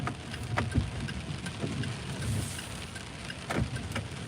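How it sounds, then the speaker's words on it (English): Rain falling on the outside of a car during a rideshare drive, a steady soft patter on the body and glass with occasional louder drops and low road rumble. "Yeah, it is raining here."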